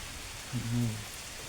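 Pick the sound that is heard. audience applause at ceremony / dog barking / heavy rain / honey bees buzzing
heavy rain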